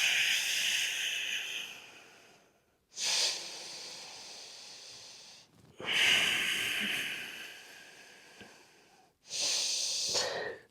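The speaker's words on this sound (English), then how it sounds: "3 breaths." Deep breathing paced through a yoga and breathwork meditation session: three long, loud, airy breaths, each a sustained hissing rush with short silent pauses between, heard up close with no talking.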